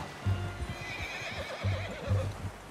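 Horse in the video game Red Dead Redemption 2 giving a wavering neigh over a steady run of hoof clip-clops and rumbling movement, fairly close with a busy game background.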